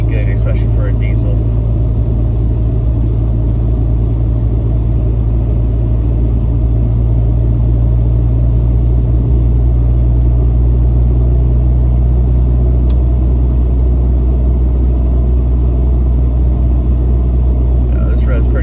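A diesel pickup cruising at 50 mph after a DEF and EGR delete, heard from inside the cab as a steady, loud low drone and road rumble that holds evenly throughout with no change in pace.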